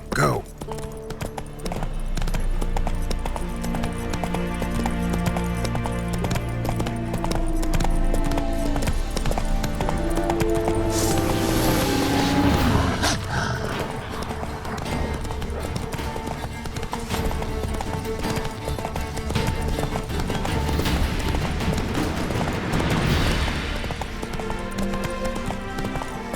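Roach, the horse in The Witcher 3, gallops with rapid, rhythmic hoofbeats beneath game music and sound effects, with a voice speaking at times.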